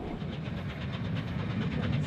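Steam train running between Skipton and Appleby on the Settle and Carlisle Railway, a continuous rolling rumble with rhythmic clatter of wheels on rails, steady and fairly loud, no talk.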